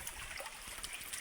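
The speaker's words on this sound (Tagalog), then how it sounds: "So mayroong kunting tubig pala dito ang sapa na to." A small stream with little water in it, flowing with a soft continuous babble and trickle, close by and fairly faint, with no voices.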